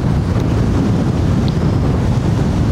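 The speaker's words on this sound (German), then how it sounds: "Ein schöner Wind hier," Wind and waves at a sandy beach on Brittany's Pink Granite Coast form a loud, steady, unbroken roar of wind buffeting and surf, with no voices.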